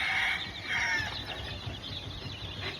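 Backyard chickens and roosters cluck and murmur softly nearby, with a couple of brighter cackling calls over low scratchy farmyard noise.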